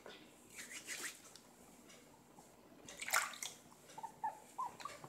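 A dog being bathed, with soft sloshing water and scrubbing sounds of hands working soap into wet fur, close and fairly faint, with a few small splashes near the end.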